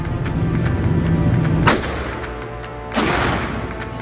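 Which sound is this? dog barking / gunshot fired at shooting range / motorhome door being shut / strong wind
gunshot fired at shooting range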